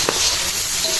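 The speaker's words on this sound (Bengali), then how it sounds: "এইদিকে চিংড়ি মাছগুলো ভাজা হোক" Shrimp frying in oil with turmeric, chili powder and salt give a dense, close sizzle, loud and continuous across the short moment, with no talk over it.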